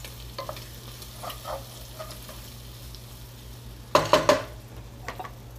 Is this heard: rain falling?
no